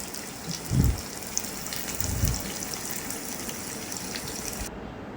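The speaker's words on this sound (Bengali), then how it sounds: "তো এই কাঁকরোলটা ভালোভাবে দুই পাশেই ভেজে নিব।" Teasel gourd frying in hot oil gives off a soft, steady sizzle, broken by two dull thumps as the pieces are turned, all fairly quiet and without speech.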